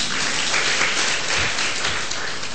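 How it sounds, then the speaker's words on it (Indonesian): Church congregation applauding during an evening sermon, an even, sustained patter of many hands filling the room at moderate loudness, with no voice on top. "Tepuk tangan buat Tuhan kita."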